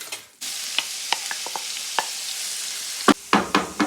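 A stick of butter with finely chopped onions and celery sizzles steadily in a pan, a close, continuous frying hiss broken by a few sharp clicks and utensil knocks near the end.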